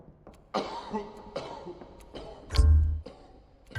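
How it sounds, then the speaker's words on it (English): A man coughs several times in quick, harsh bursts in the video game The Lightkeeper, with a heavier, deeper cough near the end, close and fairly clear. "There's a guy coughing."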